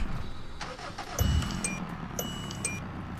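A car in the BeamNG driving game plays a few short, faint electronic start-up chime tones over the low rumble of its engine starting, with no talking.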